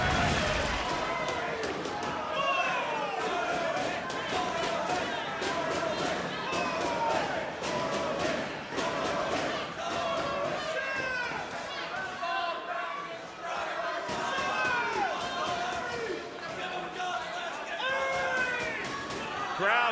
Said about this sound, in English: Crowd chanting, they want somebody to be able to get up